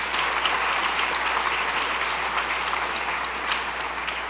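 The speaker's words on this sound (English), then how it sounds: "You can applaud that." An audience at an awards ceremony honoring outstanding students gives sustained, dense applause, a steady wash of many hands clapping at moderate distance with no talking over it.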